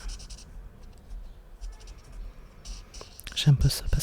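Dry colored pencil scratching across paper in soft, uneven strokes, growing into a brief louder burst of rough scraping near the end.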